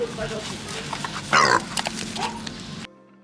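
Pigs scuffling and grunting in a fight, with one loud squeal midway among rough snorts and shuffling. People talk over the commotion, and everything cuts to silence at the end.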